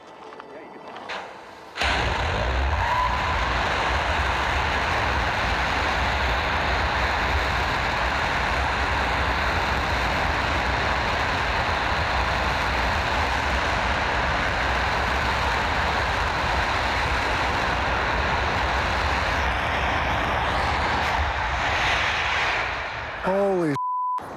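A rocket engine firing on a test stand in Colorado, a loud sustained broadband roar that starts abruptly and holds steady for over twenty seconds before cutting off.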